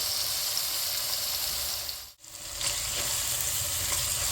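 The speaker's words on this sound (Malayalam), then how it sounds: "ഇപ്പം തക്കാളിയൊക്കെ ഏകദേശം വഴന്നു വന്നിട്ടുണ്ട്" Tomatoes and green chillies fry in a pan for a coconut milk fish curry, giving a steady, close sizzle. The sound briefly cuts out midway, then the crackling frying resumes. No one speaks.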